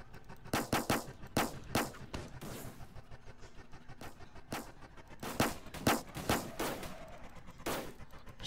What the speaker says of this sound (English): I'm trying to shoot this guy.